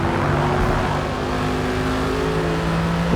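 Mercedes race car engine in the Forza Motorsport video game, holding a loud, steady, high-pitched drone throughout with slight shifts in pitch.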